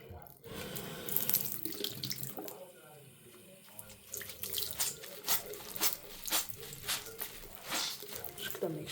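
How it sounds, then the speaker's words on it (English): Tap water runs and splashes into a sink while a vacuum filter from a Bissell Powerforce Compact Turbo is squeezed under the stream, with uneven gushes and drips and a person talking over it. "while you're running it underneath the water. Just keep on squeezing."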